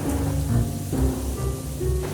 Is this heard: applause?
no